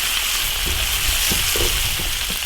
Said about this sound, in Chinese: 生姜、大葱爆香